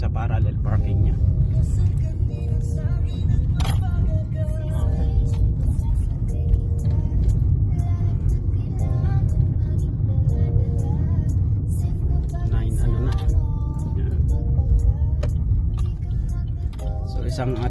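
A learner driver's car circles back in Canada for another parallel parking try, a steady close engine rumble and road whir running throughout with people talking over it.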